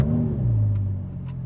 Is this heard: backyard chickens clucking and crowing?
no